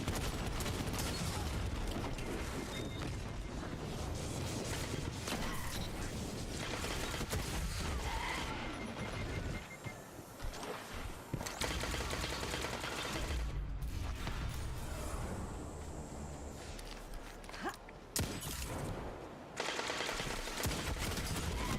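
Gunfire in Destiny 2, dense bursts of rapid shots and mechanical clatter that stay busy and fairly loud, with brief lulls between volleys.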